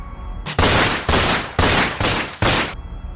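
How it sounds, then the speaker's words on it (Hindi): Five loud, booming gunshots fired in quick succession at a wolf, each ringing out before the next, with no talking. "तुरंत ही धाएं धाएं करके गोलियां उस भेड़िए पर दाग"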